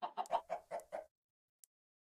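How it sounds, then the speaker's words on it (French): A golden chicken in Minecraft, modded FTB Stoneblock 3, clucks in a quick run of six close, clear bursts lasting about a second, followed by silence and one faint tick. "elle est partout la poule en or"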